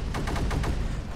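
A quick burst of five or six cannon shots fires in rapid succession, loud and close, in the strategy game Creeper World 4.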